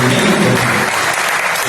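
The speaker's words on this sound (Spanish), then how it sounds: "El maestro Rubén Garnica Trejo, un fuerte aplauso, maestro." Loud, dense audience applause at a gathering on ancestral cooking, steady clapping from many hands filling the room throughout and easing slightly toward the end.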